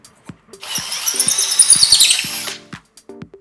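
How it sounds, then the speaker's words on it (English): A power drill bores a hole for a shelf, whining loudly and steadily for about two seconds with faint clicks and knocks before and after. "you can just drill inside here, make a huge mess"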